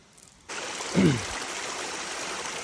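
Spring water flows through a cardamom garden, starting suddenly as a steady, gentle trickle and burble that continues evenly, with a brief murmur near the start.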